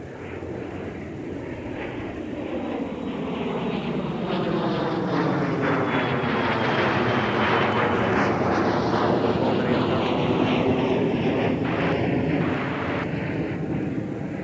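A United airliner roars down runway 30 left at Minneapolis–Saint Paul on takeoff, a loud, continuous jet engine rumble that swells and sweeps in pitch as it passes close by, with faint radio chatter mixed underneath.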